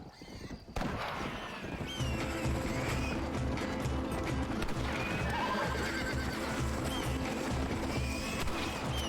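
A horse in the video game Red Dead Redemption whinnies over steady hoofbeats and a dense, continuous game soundscape that runs throughout without pause.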